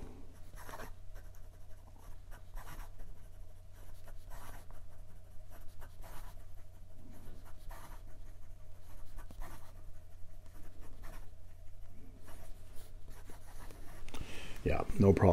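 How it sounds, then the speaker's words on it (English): A Leonardo Furore Grande piston-filler fountain pen writing quickly on paper, giving faint, close scratchy strokes over a low steady hum, with a louder rustle at the very end. "And some quick writing."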